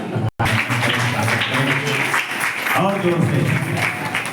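Guests applaud during a Hindu wedding ritual in a mandap at a Gayatri Shaktipeeth, the clapping sustained and moderately loud beneath a voice talking over it, after a brief dropout.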